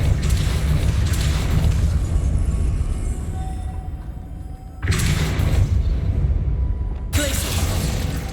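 In Hogwarts Legacy, casting Depulso sets off heavy mechanical booms and rumbling bursts, loud and close, with a dense roar fading before two abrupt, forceful blasts.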